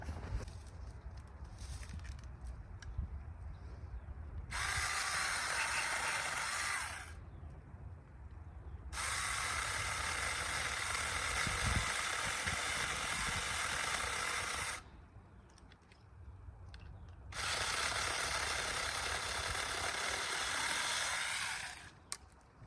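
Saker mini chainsaw cutting tree limbs outdoors, three loud sustained buzzing bursts of several seconds each separated by short quieter pauses, with no talking.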